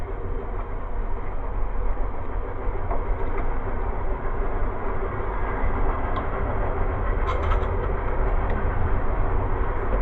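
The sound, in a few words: passing train heard through open back door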